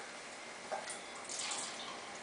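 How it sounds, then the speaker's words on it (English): Tap water poured into a cup, a faint, soft trickle and splash that swells briefly near the start and again more broadly toward the end, heard alone with no talking. "So we got some tap water here."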